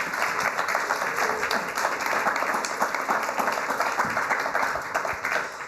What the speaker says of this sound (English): Round of applause for our speakers.